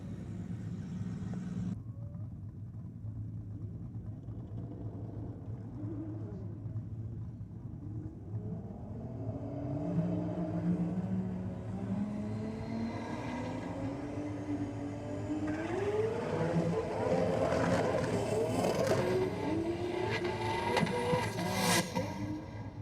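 A drag racing car makes a pass down the strip at a race-night event, a steady engine rumble swelling into a rising, loud acceleration whine that builds toward the end, heard from nearby without speech.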